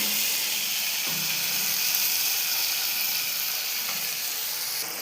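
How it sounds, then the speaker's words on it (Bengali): Soybean chunks sauté in hot oil with a steady, close sizzle that runs unbroken for the whole stretch, with faint scraping of the pan now and then. "চলো সয়াবিনটাকে আমি ভালো করে কষিয়ে নেব"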